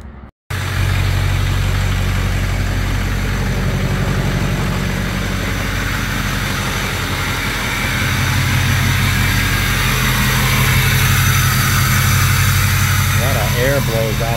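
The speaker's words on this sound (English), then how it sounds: "Blows out the exhaust and you can hear it." A vehicle engine idling through a freshly fitted MBRP exhaust, with a turbo setup: a loud, steady, deep rumble close by that holds for about fourteen seconds after a brief start.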